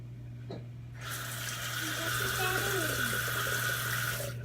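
A shaving brush is rinsed under a running tap after a shave with Sterling Soap, steady splashing water that starts abruptly and runs on close by, with low hum beneath.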